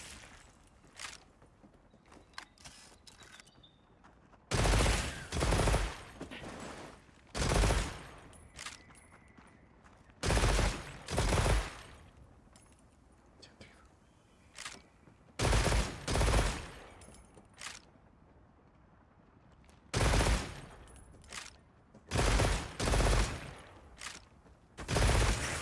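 A gunlance fires in a hunting action game as a series of loud, sharp blasts, each short cluster of shots separated by quiet gaps, repeating in a regular pattern.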